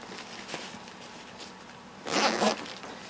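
A backpack zipper on the large back pocket of a survival pack, fitted with rain hoods, is pulled open in a short close rasping run after a few faint handling sounds.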